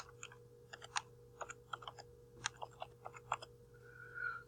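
Quiet, close-up typing on a computer keyboard in an office setting: irregular bursts of light key clicks over a faint steady hum, with no speech.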